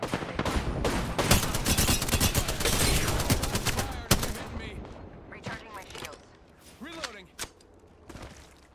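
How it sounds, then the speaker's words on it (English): Airstrike artillery barrage in the Apex Legends video game: a dense, loud burst of rapid explosive impacts and gunfire that thins into scattered shots and mechanical clanks, with character voice lines spoken over it. "Watch it, airstrike."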